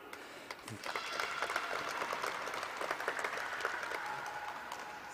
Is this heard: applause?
yes